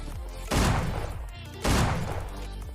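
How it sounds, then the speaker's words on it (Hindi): Two loud, close shotgun blasts ring out in PUBG Mobile Lite, each a sharp boom trailing into a ringing tail, about a second apart. "इसे मैं नॉक करता हूँ, ये वाली शॉटगन उठा के इसे फिनिश भी करता हूँ।"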